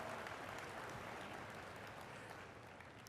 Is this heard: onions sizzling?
no